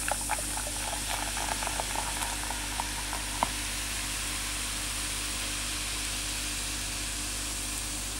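Light beer foams over marinated duck in a dish, giving a steady soft fizzing hiss with faint scattered crackles that settle as the foam subsides.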